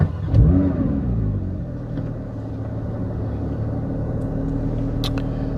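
Car engine cranking and firing up, with a brief loud start surge followed by a steady low idle rumble, fairly close with faint clicks later.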